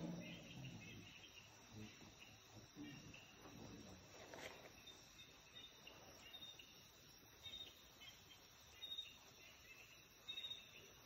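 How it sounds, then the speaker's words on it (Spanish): Faint, steady cricket chirping in the background, a high thin trill repeating over a quiet outdoor hush. "¿Qué suena? Un grillo."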